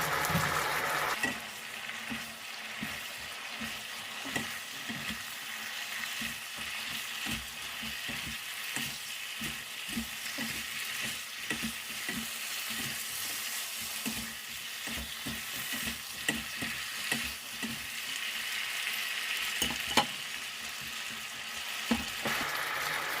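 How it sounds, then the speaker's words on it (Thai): Kale and carrot stir-frying in a pan for oyster-sauce greens, with a steady close sizzle and repeated sharp scrapes and clatters of a utensil tossing the vegetables, no talking. "พอแครอทเริ่มสุกแล้วเสาก็จะมาใส่คะน้าฝรั่งลงไปนะคะ"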